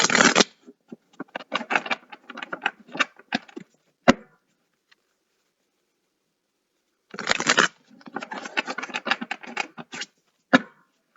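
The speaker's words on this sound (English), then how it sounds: "I actually love shuffling these cards." A tarot deck being shuffled nearby, with bursts of crisp riffling card patter, a pause of several seconds, then another run of shuffling and a final sharp tap.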